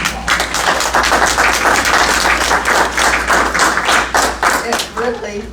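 Round of applause at a small-town community meeting, scattered hand clapping from a modest group in a room, close and fairly loud, thinning toward the end as a voice starts speaking.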